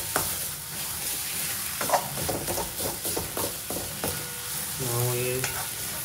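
Salted onions frying in a pan sizzle steadily up close, broken by irregular scrapes and clacks as they are stirred, with a short tonal hum near the end.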